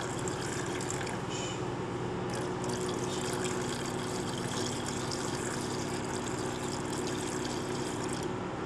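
Plain tap water pours and trickles into a clunker engine at a junkyard, a continuous splashing wash with steady hum beneath, constant in level throughout.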